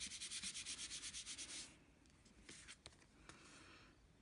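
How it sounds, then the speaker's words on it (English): Paper card layers on a handmade birthday card rubbed to secure the glue, a quick run of rhythmic back-and-forth rubbing strokes followed by a few scattered scuffs, close and faint with no talk. "Flip it over and secure the glue just by kind of rubbing."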